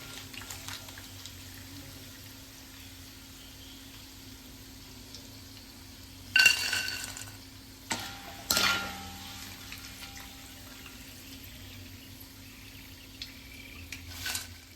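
Jackfruit chips fry in oil with a faint, steady sizzle. A few louder bursts of bubbling and clatter rise briefly midway, and no one speaks.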